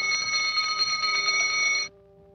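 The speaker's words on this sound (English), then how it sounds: "There was a ringing in my ears." A cartoon bell rings in a 1950 animated short, a continuous bright metallic trill like an alarm clock. It cuts off abruptly after about two seconds, leaving a faint lingering tone.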